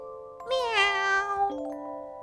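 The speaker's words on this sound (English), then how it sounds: "Meow." A single drawn-out cat meow, clear and close, rising and falling in pitch over about a second with a faint tonal ring held before and after it.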